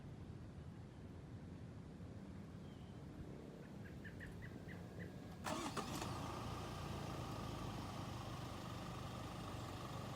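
A car engine starts by remote start while the car sits locked with doors closed, a sharp crank and catch about midway, then settling into a steady idle hum.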